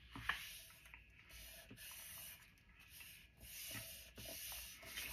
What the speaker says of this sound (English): And then just crease it.